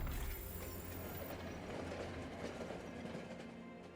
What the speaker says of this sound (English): the train lurches under the creature's newfound weight